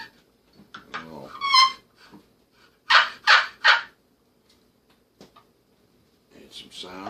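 A handmade wooden turkey call is scraped into a few raspy squawks, three loud clustered yelps in the middle with softer scratchy strokes around them, close up.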